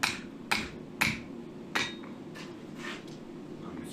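A hammer taps the end of a forged square-bar cross held against the corner of an anvil, four sharp ringing metallic strikes about half a second apart, then a few lighter taps, close and clear.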